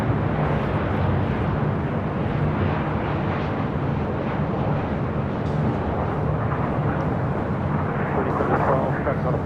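Airplane at Los Angeles International Airport, a broad continuous jet roar, loud and steady with no clear rise or fall, with voices faintly present underneath.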